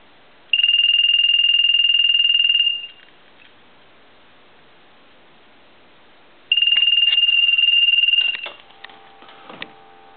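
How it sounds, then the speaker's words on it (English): A repaired old telephone's bell rings in two long bursts of about two seconds each, loud and close, separated by a pause of silence, with faint clicks and handling noise after the second ring. "I'll go ahead and let the ring go a couple times."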